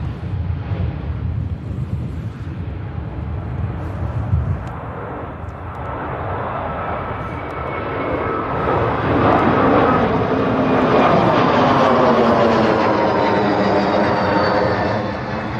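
Aircraft engines at Manchester Airport on a busy single-runway day, a steady loud roar that swells in the second half as a plane passes close, alone without talk.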